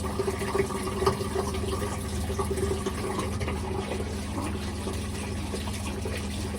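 Steady running water rinses off suds of a Dr Squatch Drunken Pumpkin 2024 Edition soap bar, a continuous close splashing flow with no talking.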